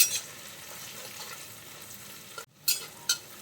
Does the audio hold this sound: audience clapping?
no